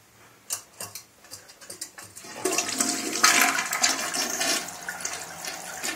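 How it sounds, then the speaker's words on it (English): A toilet with a Fluidmaster system flushes close by, starting with a few clicks and knocks before a loud rushing gush of water that keeps running to the end. "Now for the second flush."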